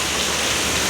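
Heavy rain pours over a flooded building area, a dense, loud, unbroken hiss of water with no pauses.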